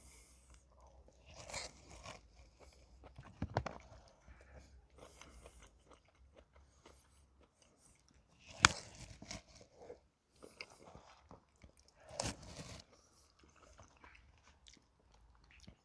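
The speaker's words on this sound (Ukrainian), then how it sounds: "Капуста хрумтить." Crunchy cabbage in rehydrated freeze-dried borscht being chewed up close, with wet, crisp bites in irregular bursts and a couple of louder crunches between quieter chewing.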